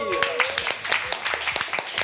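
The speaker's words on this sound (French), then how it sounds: "On peut l'applaudir." Studio audience clapping to welcome a guest onto a French reality-TV talk show, brisk sharp claps close by, with a voice speaking briefly at the start.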